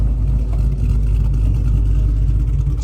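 A GMC truck idles with a choppy, lumpy note after a ported intake manifold install. The low rumble is steady and close, with no talking.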